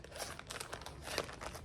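A plastic zipper baggie crinkles and rustles as it is handled, giving irregular crackling bursts at close range and low volume, with no talking.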